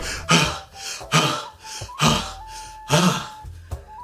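A voice imitates a man panting frantically, giving five or six sharp, breathy gasps in an uneven rhythm, each one a loud rush of air with short pauses between them.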